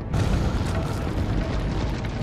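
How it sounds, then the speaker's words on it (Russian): A thrown grenade explodes in Resident Evil 4 HD, Separate Ways, giving a loud, close, low boom that fills the whole clip with a sustained rumbling roar. "Удачно ли я закинул гранату?"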